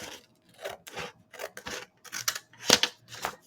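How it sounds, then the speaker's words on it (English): Scissors snipping through folded paper for a kirigami piece, a series of crisp, close cuts in an irregular rhythm with short pauses between them. "I'm going to go ahead and I'm going to cut that apart"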